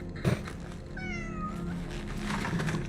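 A cat meows softly while being petted in the video game Cronos: The New Dawn. One clear, drawn-out meow sounds over a quiet ambient background, with faint purring-like murmurs after it.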